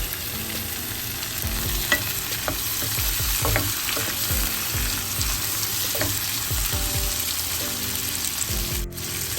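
Chopped garlic frying in a pan for a broad bean and peanut stir-fry curry: a steady, close sizzle with repeated stirring scrapes and spoon knocks throughout.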